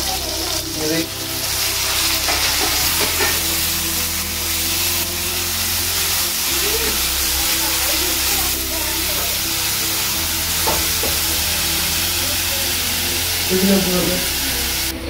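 Sliced onions with chilli and curry leaves frying in oil in a pan for a red mullangi (radish) curry, a loud, steady sizzle with stirring scrapes, heard close up throughout.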